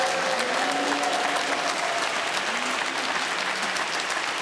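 A studio audience at a Czech football talk show applauds steadily for Sparta, a sustained, even clapping with faint voices underneath.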